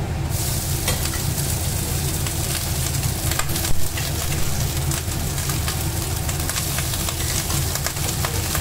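Boiled rice being mixed with onion, garlic and used frying oil in a pan, a dense, even sizzle with soft stirring and scraping throughout, close and unbroken by speech.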